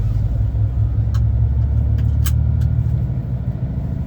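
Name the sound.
Scania R450 truck engine starting off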